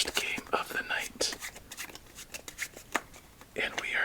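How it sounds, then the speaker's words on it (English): A deck of playing cards is shuffled in a quiet solitaire session, with soft repeated riffles and papery flicks, close and gentle, alongside faint whispering. "So let's shuffle this deck up and begin our first game of the night."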